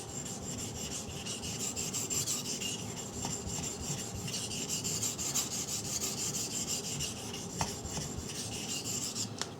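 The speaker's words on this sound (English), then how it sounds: "this backside sharpening rubbed on the stone" A steel knife blade is rubbed back and forth on a coarse water stone, a continuous gritty rasping scrape that holds steady and close throughout, with no voices.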